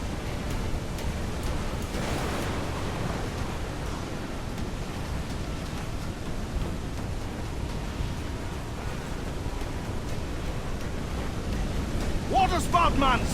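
A waterspout at sea in Assassin's Creed IV Black Flag gives a constant roar of wind and surf that rises slightly toward the end.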